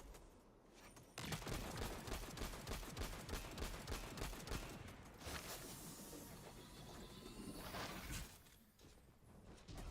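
An enemy's gunfire in a video game, a long stretch of rapid repeated shots in quick rhythmic bursts with breaks and shattering noise, fairly quiet overall as if some distance away.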